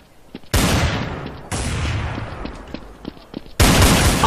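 Gunfire in Counter-Strike: Source comes as three loud, close blasts or bursts, each with a sharp onset and a decaying echo, spaced about a second apart.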